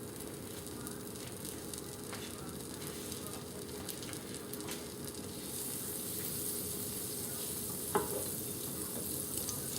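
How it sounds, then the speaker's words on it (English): About a tablespoon of butter sizzles steadily in a hot pan for an omelette, a continuous soft crackle and hiss that grows slightly brighter, with one small clink near the end. "First, we're gonna add just about a tablespoon of butter."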